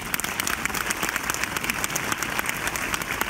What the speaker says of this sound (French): Ces applaudissements